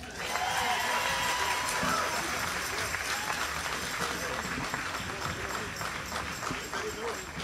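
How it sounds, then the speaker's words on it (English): Audience applause and cheering under a tent at the Richmond Folk Festival for a young man about to sing, a dense, steady crowd clapping with some voices mixed in, loud and sustained throughout. "Clap your hands for him."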